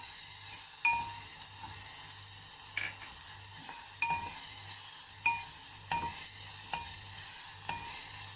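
Ginger garlic paste is fried in a pan for chicken handi, a low sizzle under repeated spoon scrapes and taps that come at a steady stirring rhythm.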